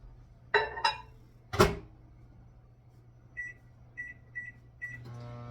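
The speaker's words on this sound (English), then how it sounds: "and I'm going to put it in the micro" A kitchen microwave oven is handled while a chocolate mug cake goes in to cook: a few bright clicks and knocks, four short beeps as the timer is set, then a steady low hum as it starts running.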